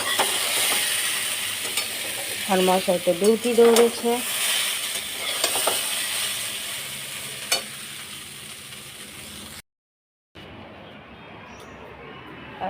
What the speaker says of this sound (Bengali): বসেছি আলু ভাজা